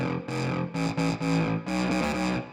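Harsh, buzzy saw-wave synth oscillator with FM modulation, made in Ableton for UK bass, playing a run of distorted sustained notes in choppy bursts, loud and alone.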